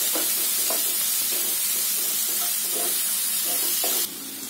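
A spatula presses and stirs egg bhurji masala of softened tomato and spices in a hot pan, with soft scraping strokes over a constant loud sizzle that drops near the end.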